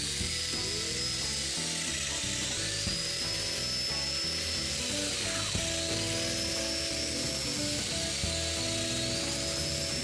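Domino joiner plunging mortises into wood pieces for a convertible dresser, a steady high whining motor with rising and falling pitch as cuts are made, close and continuous over the full stretch without talk.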